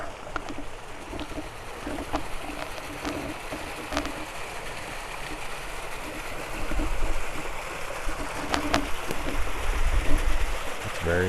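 A small mountain waterfall in the Rockies rushes steadily nearby, a constant broadband wash of falling water that swells a little louder toward the end, with a few sharp ticks and knocks over it.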